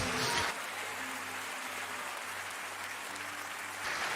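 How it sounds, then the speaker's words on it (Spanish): A church congregation applauding together, a dense continuous clapping that swells and then carries on steadily throughout. "Vamos a darle el aplauso a Dios."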